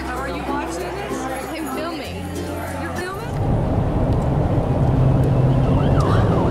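Police car sirens wail during a chase on a road in Florida, steady tones at first, then nearer and louder wavering sirens, with traffic noise and talk in the background.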